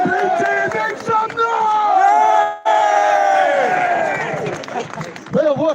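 A protest crowd in Braintree shouts and cheers in a loud, continuous roar that swells and fades, with someone talking over it.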